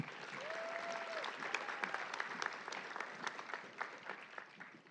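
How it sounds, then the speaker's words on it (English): Applause for award winners at a high school senior awards ceremony, a room of clapping hands rising and falling over about five seconds, fairly faint and distant, with a brief tonal whistle or feedback early on. "All right, give them a big round of applause."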